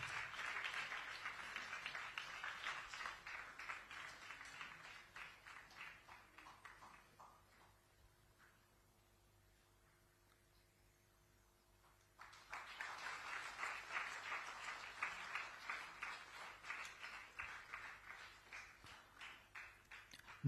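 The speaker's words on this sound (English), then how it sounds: "A big round of applause to all our key supporters" Audience applause for key supporters at a transgender dance event attended by a governor, with clapping on and off, then almost silent for about five seconds, then returning just as strong.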